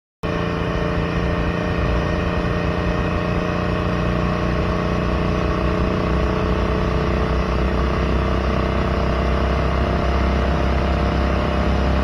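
A 420 cc street legal go kart engine with Speeduino NO2C EFI drives steadily on a road test, a loud, close, continuous droning hum holding an even pitch throughout with no break or talk.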